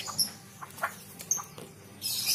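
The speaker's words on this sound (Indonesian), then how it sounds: "anakan burung cucak rowo hasil penangkaran dan dari indukan Sumatera" A three-month-old captive-bred straw-headed bulbul chick of Sumatran parent stock gives a few short, faint chirps spaced irregularly, heard alone against quiet background noise.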